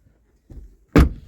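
A single solid Range Rover Vogue 3.0 door thunks shut, close and loud, after a soft rustle of movement.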